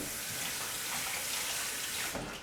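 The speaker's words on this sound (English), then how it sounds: "And then I get the thing here and rinse it off" A small apple masher is rinsed under a running tap, steady broadband water noise pouring continuously and close, with a brief clatter near the end as the flow is cut off.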